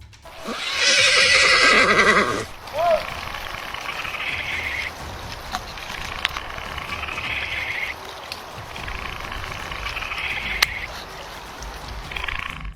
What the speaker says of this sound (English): a horse recognizing a strange creature nearby